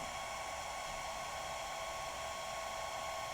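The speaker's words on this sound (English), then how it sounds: "oh, there's the fan." Cooling fan of a Sunglife 150W car AC power adapter whirring steadily, a constant broadband hiss with a faint whine, close and uninterrupted throughout.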